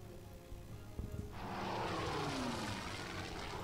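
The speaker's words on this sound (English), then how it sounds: "Move up our aircraft." Propeller aircraft engines in the World War II strategy game Order of Battle: Pacific rise from a quiet start into a steady, loud drone as the planes move up, holding through to the end.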